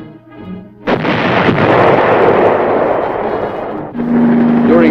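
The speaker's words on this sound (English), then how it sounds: "Tanks were used to keep the roads open at strategic points, firing to keep the enemy off balance." Tanks firing their guns during the Vietnam War: a heavy blast erupts and rolls on as a long, loud rumbling roar, then a second burst follows near the end under a faint tone.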